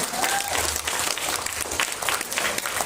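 Workshop attendees at a health talk give steady, dense applause, many hands clapping together in a busy crowd wash that holds for about three seconds with a faint tone drifting through.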